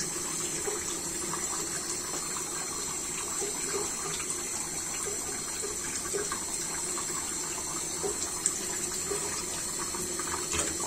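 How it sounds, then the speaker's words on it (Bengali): Taro stolons (loti) boil in a pot of water, giving a steady, close, even bubbling and watery hiss with no pauses and no talk. "লতিটা সিদ্ধ হচ্ছে।"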